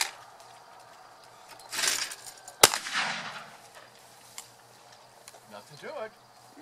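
A 20-gauge shotgun with a modified choke fires while hunting pheasants, giving one sharp, loud blast with a brief echoing tail, followed by rustling and people talking nearby.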